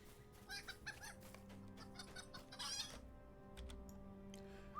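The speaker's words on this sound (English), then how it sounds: "I have gathered up a chicken." Chicken clucking in the Lord of the Rings Online game, a few short quiet clucks and squawks over a soft steady background hum, no talking.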